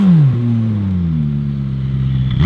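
A McLaren 570S with valved exhaust and high-flow downpipes revs hard and loud up close, dropping into a deep, throaty rumble that holds steady before a slight rise at the end.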